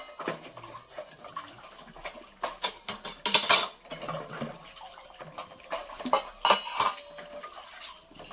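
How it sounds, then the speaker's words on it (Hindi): Dishes, pots and utensils are washed in a village home, clinking and clattering in irregular bursts at close range, with some water splashing and no talking. "अभी हम बर्तन धोते हैं संगवारी में।"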